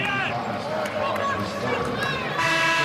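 Arena crowd noise at a Louisville college basketball game against Virginia, a steady loud hubbub of many voices with sneaker squeaks, swelling slightly near the end.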